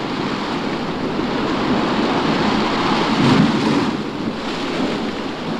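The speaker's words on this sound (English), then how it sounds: "Just listen to that water roar." A continuous deep roar of rushing river flood water, loud and close, swelling slightly in the middle before settling back, with no voices.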